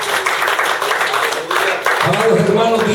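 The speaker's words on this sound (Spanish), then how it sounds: "den un fuerte aplauso." Church congregation applauding loudly and steadily, a dense wash of clapping that swells, with voices mixed in beneath.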